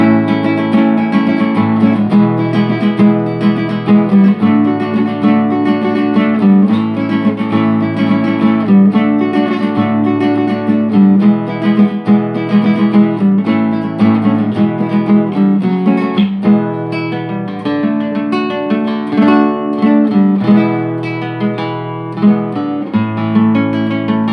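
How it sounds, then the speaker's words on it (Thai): An Ariana A583 Japanese electro-classical guitar, played unplugged without an amp, plucks a continuous, bright melody with chords, loud and close, with no voices. "ของกีตาร์คลาสสิกเปล่า ไม่ได้ตัดผ่านตัวแอม"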